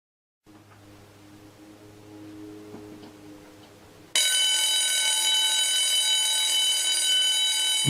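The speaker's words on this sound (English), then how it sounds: "Fire alarm bell." A fire alarm bell recording plays from a computer as a continuous, loud, steady ringing tone that starts abruptly after a quieter hum and holds unbroken to the end.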